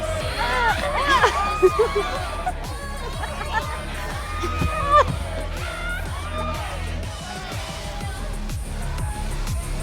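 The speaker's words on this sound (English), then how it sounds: "We throw ourselves into the crowd." A dense crowd at a concert in the video game Life Is Strange fills the scene with continuous babble, scattered whoops and cheers, and thumping music underneath, loud and close throughout.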